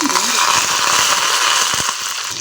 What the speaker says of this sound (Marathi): आता मी ढोकळ्यासाठी फोडणी तयार करते मोहरी टाकते